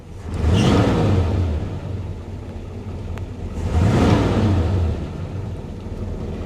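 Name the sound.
1957 Chevy Bel Air engine starting and running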